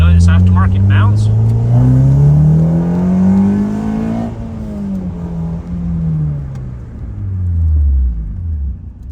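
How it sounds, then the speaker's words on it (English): A Honda CRX engine fitted with a hydro transmission conversion and aftermarket mounts revs up and down twice, the rising and falling engine note loud and close, with a voice talking over the start. "it makes the engine quite a bit smoother"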